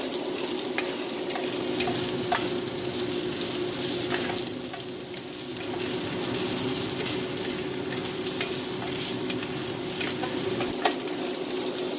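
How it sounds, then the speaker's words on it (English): Garlic and roasted onions sizzle steadily in a hot pan for soup, a continuous close frying hiss broken by faint scrapes and clicks as the pieces are stirred and tossed. "Now my garlic is going to go in there for just 1 minute."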